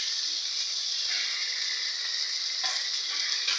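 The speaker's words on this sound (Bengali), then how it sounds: "কলার খোসা বাটা দিয়ে ভালোভাবে সব মশলার সঙ্গে মিশিয়ে নেড়ে নেব" A paste of raw banana peel sizzles in hot oil with spices as it is stirred, giving a steady, close frying hiss with a few brief scraping accents.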